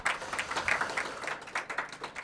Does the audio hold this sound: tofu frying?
no